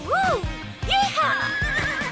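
A cartoon horse gives two loud, rising-and-falling whinnies close by, with faint hoof clip-clops underneath, in an animated children's show setting.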